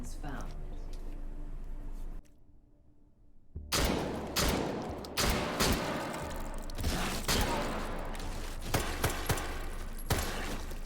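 Pistol gunfire inside the VR shooter H3VR's Take & Hold mode: a run of sharp close shots with rapid, irregular bursts following a brief lull, mixed with a voice talking throughout.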